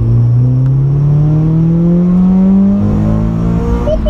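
A Honda Civic EK9 Type R engine revs hard on a B road, climbing steadily into its VTEC range with a rising, loud and close drone that holds for several seconds before a brief shift and renewed pull.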